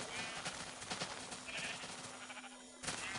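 Sheep in Minecraft bleat repeatedly over a steady background hum, several short wavering calls close together.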